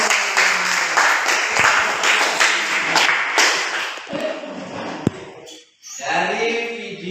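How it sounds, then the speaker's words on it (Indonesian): Audience applause and clapping from a group, likely a class, sustained for several seconds and then fading, with a sharp tap near the end and a brief murmur of voices afterward. "Kasih aplaus dulu."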